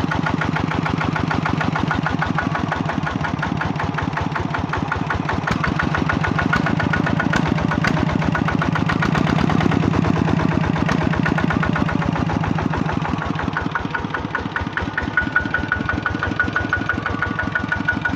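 A newer ZT120 Plus engine on a KS72 frame idles steadily for a long stretch, a smooth, even putter with a low rumble and faint mechanical ticking, close by.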